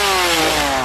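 A chainsaw engine at Halloween Horror Nights, a loud, steady, close drone with a slowly falling pitch, heard alone with no talk.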